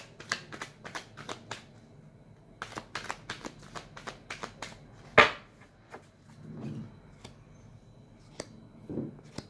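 Tarot cards being shuffled by hand close up, with quick papery riffles and soft slaps in clustered bursts, then one sharp snap and a few scattered taps amid quiet pauses.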